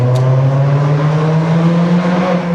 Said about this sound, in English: Let's downshift here, see if we can get a pull.